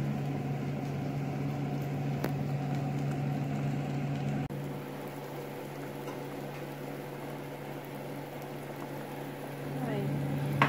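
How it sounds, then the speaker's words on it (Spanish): Cut corn on the cob boiling in a pot of water, a steady low bubbling and rumbling hiss that runs continuously throughout at moderate volume. "ahí ya tengo hirviendo el elote, lo corté y lo puse a hervir"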